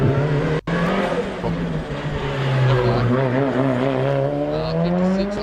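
A Mitsubishi Evo race car at a lakeside hillclimb, its engine loud and close as it revs and climbs through the gears with a steady rising drone, briefly cut off near the start, while a commentator talks over it.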